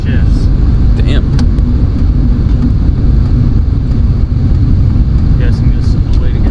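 Supercharged R53 Mini Cooper S with six-speed manual gearbox driving, a steady loud engine drone with road and wind rumble heard from inside the cabin throughout.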